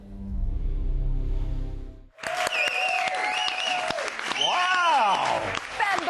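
A television studio audience bursts into loud cheering and applause for the arrival of a guest on a morning show, a dense roar of clapping and whoops that follows a brief stretch of other sound.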